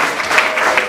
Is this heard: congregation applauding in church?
yes